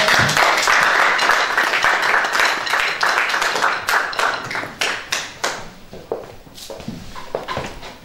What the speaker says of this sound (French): Während er nach vorne kommt, applaudieren wir laut für die Ehre des Herrn